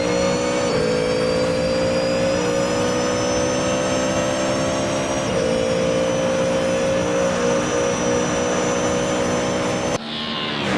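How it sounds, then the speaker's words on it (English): A Ford Mustang GT3 in a racing video game at the Australian Grand Prix gives a loud, sustained engine whine, pitch climbing steadily through gear shifts as it powers down the back straight, ending with an abrupt change. "Evan, as he enters the back straight, hear that engine whine."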